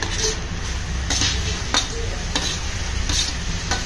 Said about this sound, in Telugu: ఇప్పుడు మనం టమాటోస్ యాడ్ చేస్తున్నాము